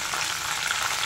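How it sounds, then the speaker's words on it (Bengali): Bay leaves frying in hot oil just after meat has been browned, a steady loud sizzle with fine crackling throughout, close and alone with no voices. "ওই গরম তেলেই আমি দিয়ে দিচ্ছি তেজপাতা"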